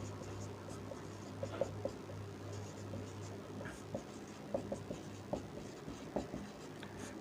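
Chalk or marker scratching on a board during a lesson makes faint, short strokes and taps in irregular bursts over a quiet room hum, with no one talking.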